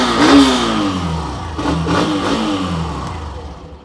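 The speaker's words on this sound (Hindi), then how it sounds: "आइडियल कंडीशन पर इंजन साउंड सुनिए," A small 125cc motorcycle engine idles nearby, its exhaust note briefly rising with a rev before settling back to a steady burble.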